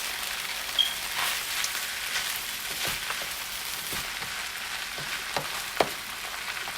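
Vegetables for veggie fried rice frying over high heat, a steady crackling sizzle with scattered sharp pops and occasional clicks of stirring, continuous and moderately quiet, no talking.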